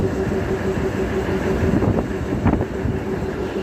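At Siddipet railway station, a DEMU train keeps up a constant, loud rumbling drone nearby, with a few faint knocks midway and no talk.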